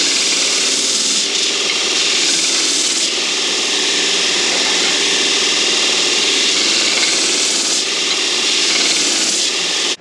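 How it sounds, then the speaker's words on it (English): A belt grinder working metal pieces in a farm shop gives a steady, loud abrasive rasping hiss that runs continuously throughout, with slight swells in intensity as pieces are pressed against the belt. "the belt grinder did a pretty good job"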